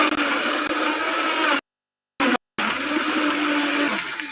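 A blender whirs loudly while blending pineapple with coconut water, running steadily for over a second, then cutting out, pulsing briefly and starting again at full roar.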